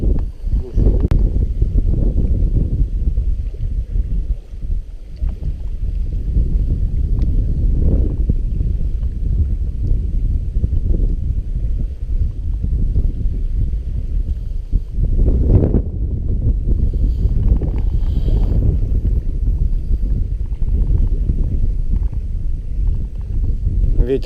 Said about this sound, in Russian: Ветер, конечно, приличный.